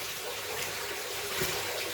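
Aquarium filter sponges from a Lake Malawi mbuna cichlid tank are squeezed out in tank water, giving a steady, close wash of trickling and splashing water with a brief surge near the end.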